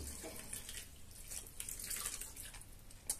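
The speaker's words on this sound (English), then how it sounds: "I'm going to add a bit more water." Tap water pours steadily into a cooking pot for fish-stock soup, a continuous close hiss and splash with no talk over it.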